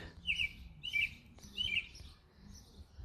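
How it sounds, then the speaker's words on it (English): Outdoors, a bird gives three quick, bright chirps spaced about half a second apart, followed by a fainter fourth, over quiet low background rumble. "Look at that bird."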